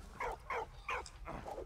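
A dog in the video game Soldats Inconnus gives four or five short, close barks in a quick uneven series, fairly quiet against a low background rumble.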